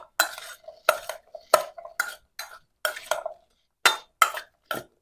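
Mixture being transferred and stirred in a bigger bowl, a series of about ten separate scraping, clinking strokes of a utensil against the bowl in an uneven rhythm, close and clear, with short gaps between them.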